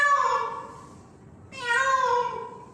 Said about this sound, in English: Cutting onions and the cat is sitting there like crying.